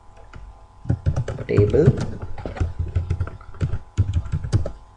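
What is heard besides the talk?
typing an SQL command on a computer keyboard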